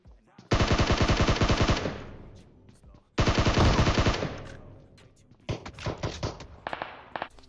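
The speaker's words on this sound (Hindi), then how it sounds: "आखिरकार एक ऑटोमेटिक गन चला के ना भाई, मजा टैप आ गया बिल्कुल" Automatic gunfire from a SCAR-L assault rifle in the mobile game PUBG Mobile, in two loud sustained bursts followed by a shorter, more ragged third volley, with no talking over it.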